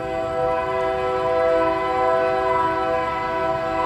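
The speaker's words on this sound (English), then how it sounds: "I live just past those train tracks" A train horn blares in a long, sustained, steady tone, loud and close, over the rumble of a passing train.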